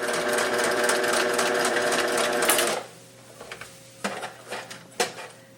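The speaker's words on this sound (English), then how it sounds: "then you're going to just simply sew across here" A sewing machine stitches across a fabric mask that has an N95 filter inside, a fast, loud mechanical whir running for about three seconds before it stops, followed by a few sharp clicks and handling knocks.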